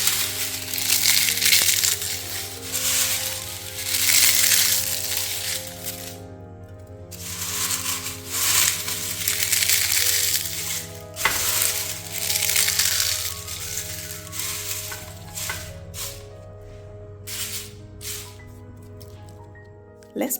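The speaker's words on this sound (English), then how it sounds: "You know your leaves are properly dried when it sounds like this." Dried neem leaves being crushed by hand make continuous dry crackling and crunching, close and loud, rising and easing in waves as the brittle leaves break apart.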